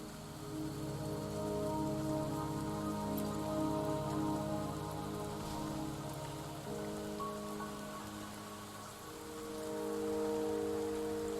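Steady rain hissing and pattering in the video game Wuthering Waves, continuous and fairly loud throughout, with layered tonal background music beneath and no talking.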